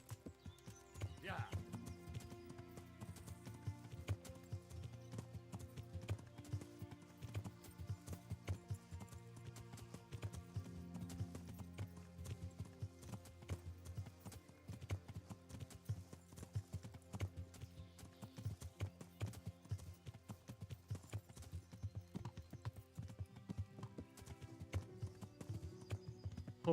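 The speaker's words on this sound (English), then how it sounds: "That's not my horse." Steady clip-clop of horse hooves in a video game, trotting continuously under a dense music bed with an occasional whinny, while a player talks over it now and then.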